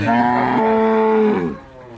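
A cow lows once at a dairy farm keeping milking cows with Brahman calves, a long, loud, close moo lasting over a second before it trails off.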